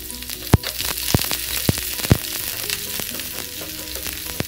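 Onion and curry leaves fry in hot oil for paruppu usili, a steady close sizzle broken by four sharp spatula knocks against the pan in the first half, with no talking.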